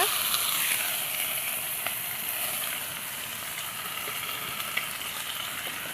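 Mustard seeds, onion and curry leaves sizzle steadily in hot oil, a dense, even crackle with occasional small pops throughout, close and moderately loud, with no talk.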